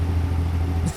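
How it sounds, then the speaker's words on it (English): Ford Focus MK3.5 in American Truck Simulator, engine braking with a steady low droning rumble close up and loud for about a second, easing off near the end. "It even has a Jake brake. Check this out."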